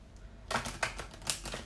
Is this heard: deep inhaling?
no